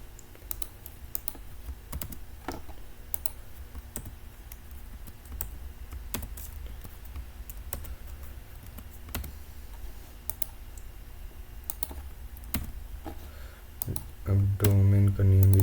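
Keys are typed on a computer keyboard, with Enter pressed, as steady close clicks across the whole stretch that end in a louder burst with a low hum.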